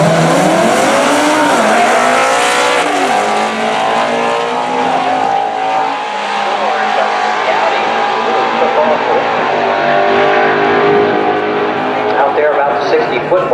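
A Ford Mustang drag racing at Maple Grove roars loud and continuous, its engine pitch climbing through repeated gear changes as it pulls away down the strip.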